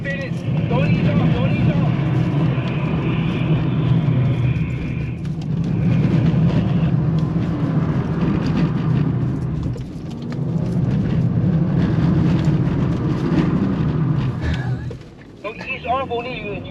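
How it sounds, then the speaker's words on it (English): A BMW E39 engine is held at full throttle while drifting, a loud, sustained roar that continues throughout with wind rush and a brief dip near the end; people talk over it. "Turn in, full throttle. Full. Pin it. Don't ease off."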